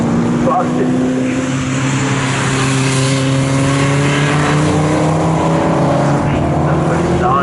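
Aston Martin GT4 race car in qualifying at Snetterton circuit, a loud engine note holding steady and rising in pitch as it passes close by, with a commentator talking over it.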